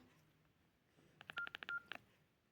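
Keypad tones from a broken Sigma smartphone's calculator, a quick run of about eight short, bright beeps tapped in irregular rhythm over quiet background noise.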